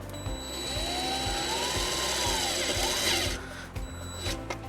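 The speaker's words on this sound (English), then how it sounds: "Now we're going to take our provided self-tapping screw and ground the white wire to the frame." A power drill drives a self-tapping screw into the frame of a 2017 Honda Fit, a close whine that rises and falls in pitch for about three seconds, then stops with a few short mechanical clicks and bursts.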